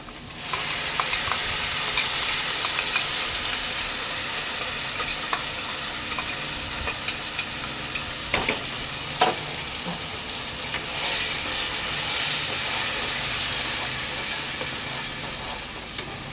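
Tomato and ginger paste frying in a pan for a paneer and potato curry, a steady close sizzle throughout with occasional small pops and stirring scrapes, no voices.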